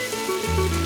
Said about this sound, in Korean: 쇠고기가 지글거리고